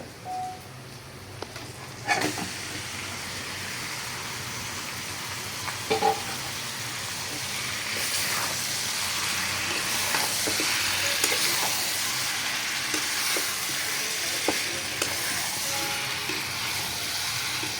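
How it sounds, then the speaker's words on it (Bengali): Steady sizzling of marinated chicken frying in a wok for biryani, a continuous hiss with occasional scraping clinks of stirring, close and fairly loud throughout. "এখন আমি মাংসটা কড়াইয়ের মধ্যে দিয়া দিই।"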